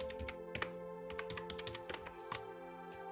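Someone types a phone number on a computer keyboard: a quick, irregular run of crisp, close key clicks, quiet overall and with no talking.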